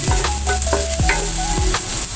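Sliced onions go into a pan of golden garlic frying in oil, raising a loud steady sizzle with a few scraping stirs of a spatula.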